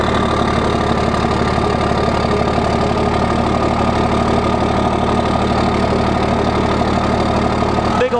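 A 12-valve diesel dually pickup truck idles close by, a loud, steady, rumbling knock running unbroken throughout, ending with a brief thump.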